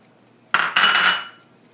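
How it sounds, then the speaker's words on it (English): A whisk scrapes and clatters briefly against a pot as flour is stirred into melted butter, one short close burst of metallic swishing that fades within a second. "You want to whisk it in there and cook it for a little bit"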